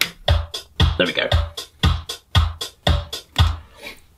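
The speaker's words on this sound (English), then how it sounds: "So that's a hand clap." Synthesized hand clap from a modular drum module triggered in a steady rhythmic pattern, sharp snappy hits roughly every half second with a brief flurry in the middle, close and dry, no talking.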